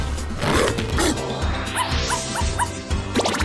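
A dog barks and yips a few times in quick, close bursts over a busy background with music-like tones.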